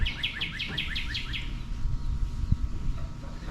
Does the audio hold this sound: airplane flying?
no